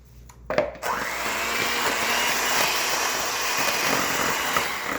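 An electric hand mixer starts with a sharp whir after a brief clatter, then runs steadily and loudly through bran muffin batter with brown sugar, a continuous high motor whine with slight fluctuations.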